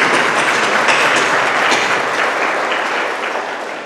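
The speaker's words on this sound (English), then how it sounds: "So can we please give our educators at Fairbairn College a round of applause" Steady, dense applause from a seated audience at a college prize-giving ceremony honouring the educators, loud and continuous throughout, easing slightly toward the end with no talk over it.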